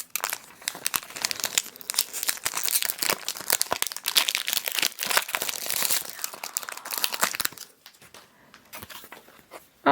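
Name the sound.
opening Japanese Pokemon trading card booster pack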